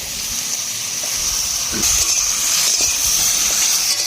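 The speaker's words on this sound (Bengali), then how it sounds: "তেলে ফোড়ন করছি, এই কচুরলতিটা দিয়ে দিচ্ছি" Taro stolons (kochur loti) fry in hot oil with spices, a hissing sizzle that swells noticeably partway through as more goes into the pan, steady and close.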